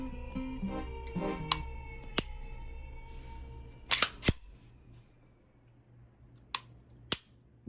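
Dry-fire trigger pulls on a Canik SFX Rival pistol with no magazine: several sharp, close mechanical clicks spaced unevenly, including a quick pair, against a quiet background.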